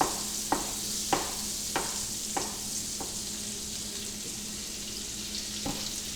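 Mushrooms fry in a pan for a Philly cheesesteak, giving a continuous loud sizzle with a few sharp clinks or stirring knocks near the start, steady throughout and with no talk.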